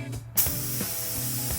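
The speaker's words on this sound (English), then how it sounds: "set it up, put the paint in, and let's go spray" A paint spray gun sprays automotive paint, the trigger pulled after a brief pause, releasing a loud, steady hiss of atomized spray with a faint rhythmic pulsing underneath, continuing without talk.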